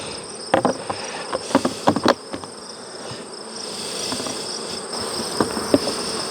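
Honey bees buzz around mating nucs in an apiary, a steady hum underneath with scattered taps and knocks against the wooden hive boxes, all fairly quiet and close.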